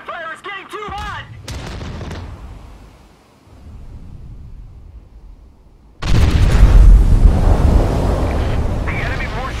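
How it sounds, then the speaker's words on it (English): Anti-aircraft gunfire in the naval video game Steel Ocean, with rapid bursts and booming explosions, a quieter rumbling lull, then a loud surge of heavy fire and blasts, with voices speaking early on. "Anti-aircraft fire is getting too hot!"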